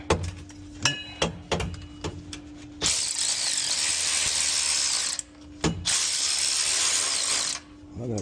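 Exhaust clamp bolts on a Borla S-Type cat-back exhaust for a 2019-2022 GMC Sierra 1500 being tightened with a hand ratchet: a few quick clicks, then long steady stretches of rapid ratcheting, close and loud.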